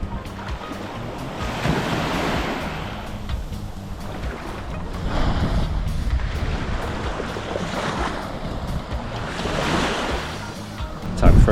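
Gentle Caribbean waves on Seven Mile Beach, Grand Cayman, washing ashore in slow repeating swells, close and moderately loud, with some wind buffeting.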